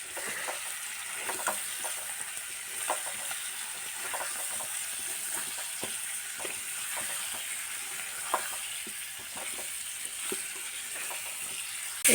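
New potatoes, fish, tomato and spices sauté in a pan, giving a continuous close frying hiss broken by frequent light scrapes and taps of a stirring spoon.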